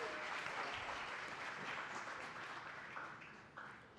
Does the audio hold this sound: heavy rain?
no